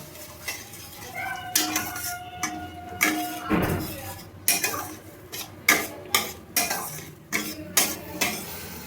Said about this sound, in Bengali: এবার আমি ভালোভাবে নাড়িয়ে নেব।